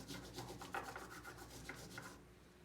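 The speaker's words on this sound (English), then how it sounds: "take the long side of the crayon and gently rub onto your nature" Crayon side rubbed across paper laid over a nature item for a craft, a steady close scratchy rubbing in quick back-and-forth strokes that stops near the end.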